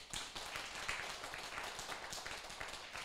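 Audience at a closing session of a legal-studies class in Taiwan claps for itself, a fairly quiet, steady patter of many hands with irregular sharper taps, heard from a slight distance and continuing throughout.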